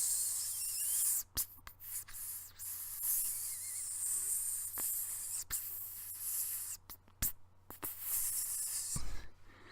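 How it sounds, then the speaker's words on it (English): Steady broadband sizzling hiss of a pizza runs throughout, punctuated by several sharp pops and crackles, close and fairly loud with no voices. "And that was the sound of pizza sizzling."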